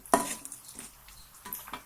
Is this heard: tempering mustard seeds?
yes